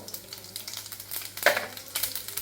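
Cumin, asafoetida, turmeric and fennel seeds sauté in hot oil for a green-pea paratha filling, a soft crackling sizzle with light stirring scrapes and a brief sharper pop in the middle.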